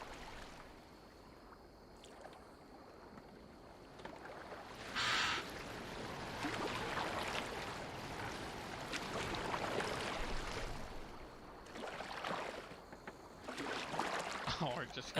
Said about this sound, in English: Take it we're getting in this little rowboat.